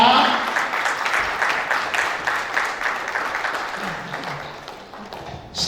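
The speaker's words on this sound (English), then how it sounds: "Please, special clap for her." A workshop audience claps for the head of nursing, a sustained, fairly loud patter of many hands that tapers slightly near the end.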